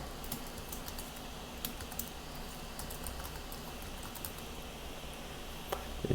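Faint, irregular keyboard clicks and taps as someone types on a computer keyboard, including a Command-N shortcut, scattered lightly over a steady low hum with a slightly louder cluster of keystrokes at the end.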